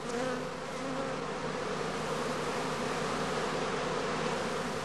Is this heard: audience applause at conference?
no